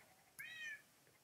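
A single short Minecraft cat meow, clear and fairly close, rises and falls in pitch against a quiet background with no talking.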